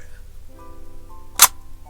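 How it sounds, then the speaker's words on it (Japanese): A Canon 7 rangefinder camera with a cloth shutter fires once, a single short, crisp click against faint steady background tones. "シャッターもね小気味よく切れるし、音も静かね"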